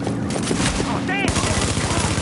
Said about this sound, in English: Who the hell are they shooting at?